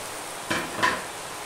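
Ridge gourd and tomato tipped into a pan of potatoes and onion frying in oil, giving two brief, soft rustling bursts over a faint, steady low sizzle.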